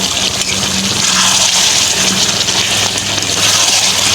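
Water gushes loudly and steadily into chicken kasa cooking in a pot on a wood-fired stove, a close, continuous pour with no talking.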